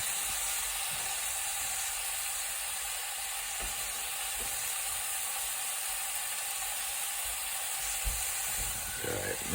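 Red wine bubbling and reducing in a hot pan, giving a steady, close sizzling hiss with a soft crackle that runs the whole time without voices.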